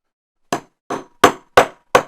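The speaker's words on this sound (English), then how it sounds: "I just have to give it a few whacks." Five sharp hammer whacks on a rivet being driven out, spaced about a third of a second apart, loud and close with no talking.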